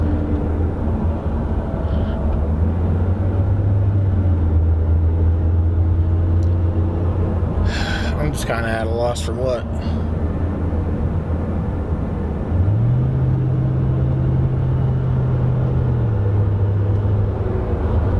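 A Pontiac GTO cruises on a test drive with a steady, loud cabin drone and road rumble, engine pitch rising and easing with throttle, while a driver briefly speaks over it.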